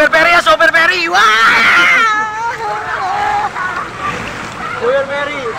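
A large passenger ferry churns past with loud rushing water and crashing waves, while excited voices talk and call out nearby.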